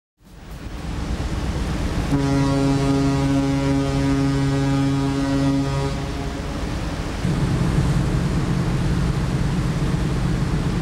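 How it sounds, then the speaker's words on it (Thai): A large passenger ship heading back toward Hong Kong drones with a steady low engine rumble and broadband wash of water against the hull, with a sustained tonal hum that drops away partway through, no voices. "เรือใหญ่กำลังเดินเครื่องยนต์ฝ่าคลื่นมุ่งหน้ากลับเข้าสู่ฝั่งฮ่องกง"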